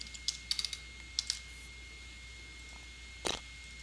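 Light, quick keystrokes on a computer keyboard come in a short burst of clicks, then a pause and a final pair of taps, close and fairly quiet with no voices.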